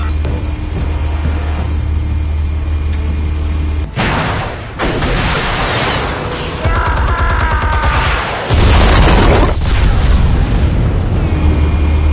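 Armed explosives set off in the Batman Telltale game: a loud, close blast opens a heavy roaring burst, with crackling debris and further thunderous rumbles rolling on for several seconds, no voices.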